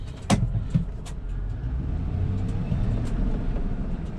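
A 2006 Ford F350 truck in four low gear, backing up in reverse: a steady low engine rumble close by, with a few faint clicks and knocks over the drone and no talking.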